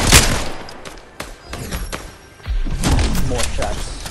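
Scattered gunshots and thuds pop in a Fortnite match, some close and sharp, others farther off, coming in uneven bursts while players chatter over the fighting.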